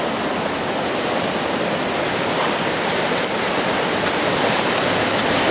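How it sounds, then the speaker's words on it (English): Rushing water of the Animas River rapids near Durango, a loud, steady broadband roar that stays constant throughout with no voices over it. "We're going to go through a little rapid here."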